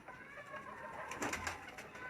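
Faint, soft cooing of rooftop pigeons, a low, gentle murmur lasting a couple of seconds with no talking.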